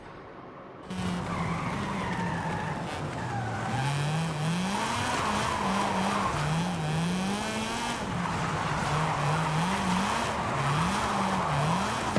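Hard braking in the Forza racing game brings a loud, sustained tire squeal lasting over ten seconds, its pitch wavering and swooping over a steady engine drone, with no talking.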